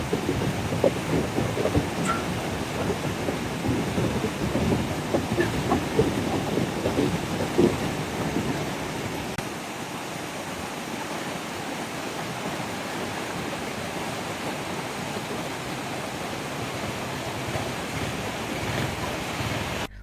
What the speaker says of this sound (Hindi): गगई नाले की आवाज़ को महसूस करें।